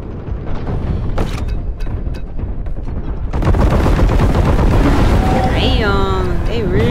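Enemy gunfire in a Warhammer 40,000 shooter game, rapid bursts of shots that start sparse, then swell into a loud, continuous barrage, with whooshing effects toward the end.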